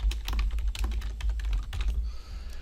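Rapid, steady typing on a computer keyboard, close and clear, a run of dense key clatter that thins out near the end.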